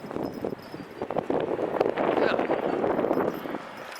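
Gusty wind buffets a microphone outdoors, producing a loud, rumbling roar that swells and stays strong through the middle before easing, with a few brief knocks early on.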